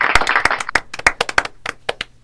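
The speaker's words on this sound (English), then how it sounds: "Big round of applause." A small group claps briefly, a scattering of close, sharp handclaps that quickly thin out and fade.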